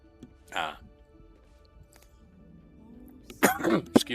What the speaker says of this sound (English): I have a bit of a cough right now